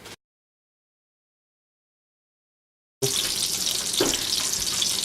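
Breaded chicken searing in a frying pan, a steady close sizzle and crackle that starts abruptly after a long silence and continues without talking.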